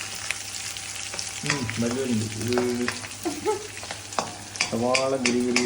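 Green chillies fry in ghee for a chicken ghee roast, sizzling continuously up close while a spoon stirs and scrapes the pan, with a voice heard briefly.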